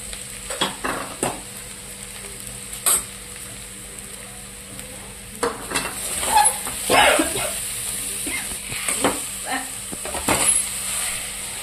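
Bread pakoda batter being stirred and mixed with salt in a bowl, a series of soft scraping and tapping strokes, close and moderately quiet, with irregular pauses between bursts.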